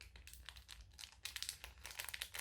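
Tightly sealed Japanese snack packaging being struggled with, close and fairly quiet crinkling and crumpling of plastic wrapper in irregular bursts, busier in the second half.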